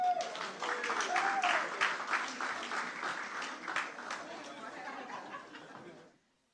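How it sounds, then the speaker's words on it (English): Audience applauding at a housing distribution ceremony, lively clapping with laughter and chatter mixed in, tapering off and stopping abruptly near the end. "Round of applause, everyone."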